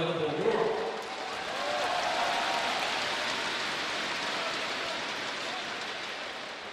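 Crowd applause in a basketball arena during a 2019 China versus Australia NBL exhibition game, a dense, steady clapping roar filling the whole stretch under a commentator's voice.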